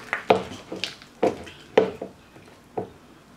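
Spoon scraping and knocking against a bowl while mixing crab dip with cream cheese, a handful of sharp, close clinks and taps spaced irregularly with soft stirring between them, fairly quiet overall.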